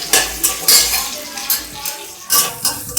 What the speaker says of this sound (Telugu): పచ్చిమిరపకాయలు ఒక 2, ఇలా సన్నగా తరిగి పెట్టుకున్న ఉల్లిపాయలు 1 కప్పు వేసి కొంచెం ఫ్రై చేసుకోవాలి.